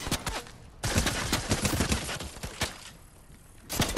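Rapid bursts of video game gunfire, sharp cracking shots in dense volleys with a short pause near one second and another near three seconds, loud and close, with no talk.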